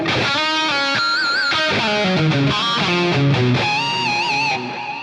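Electric guitar lead tone from the McRocklin Suite preset, a sustained distorted shred line of bends and held notes, loud and alone throughout with no talk.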